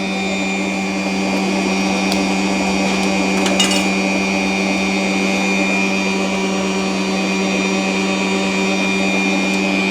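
An electric mixer beats cake batter of sugar, margarine and eggs with a steady, loud motor whine and grinding hum that runs continuously throughout, close by and without talk.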